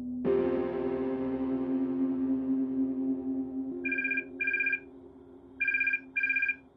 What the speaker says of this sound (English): It's 3 a.m. on September 14th, 1989, and the phone is ringing in Riki Ott's cabin